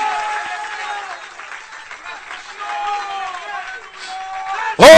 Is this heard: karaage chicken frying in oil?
no